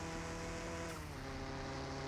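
Car engine in the video game Car Mechanic Simulator at high speed in third gear, a steady sustained drone with a slight pitch shift midway, faint and continuous with no talk.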